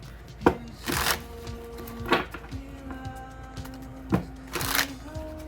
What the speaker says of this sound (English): Let's shuffle up this deck.